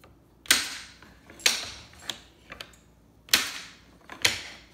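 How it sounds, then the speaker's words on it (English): The bolt of a Lapua 338 rubber band sniper rifle is worked repeatedly, giving several sharp, close mechanical clacks and ratchety clicks spaced about a second apart, with no talking. "So you fire, and then work your bolt. That advances the next rubber band to be fired."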